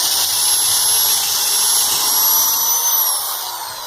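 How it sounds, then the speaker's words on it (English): A power drill bores all the way through a wooden rafter for a kayak hoist pulley setup, producing a continuous high-pitched whining drone close by for several seconds with no talk. "and drill all the way through"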